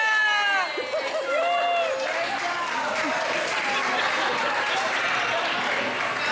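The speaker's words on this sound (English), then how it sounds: "Let's give it round of applause." Crowd applause at Hollywood Studios, Disney World, a dense wash of clapping that starts under a voice and then carries on steadily on its own.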